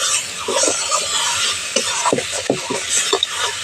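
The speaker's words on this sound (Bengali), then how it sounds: "জল দিয়ে মশলাটা এবার ভালো করে একটু কষিয়ে নেব" Spice paste cooking in a pan with a splash of water for a jackfruit curry, with a continuous hissing sizzle and intermittent scraping stirs close by.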